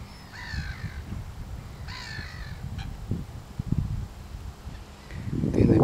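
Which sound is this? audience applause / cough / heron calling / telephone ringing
heron calling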